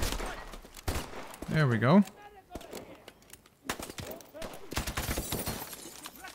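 A sonic shotgun firing in Call of Duty: Advanced Warfare, a single sharp blast with a sweeping, warbling tone, followed by scattered bursts of gunfire while someone talks.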